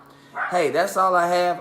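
A dog barks and whines close by, a couple of short yelping barks with a sliding whimper, while a person speaks over it.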